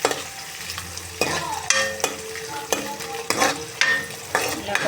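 Coriander frying lightly in hot oil for a chicken curry, a bright crackling sizzle broken by repeated sharp scraping strokes of a stirring spoon, close and without talk.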